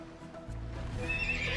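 A horse neighs in the video game Age of Empires II, a loud whinny rising over a low rumble of hooves and game ambience.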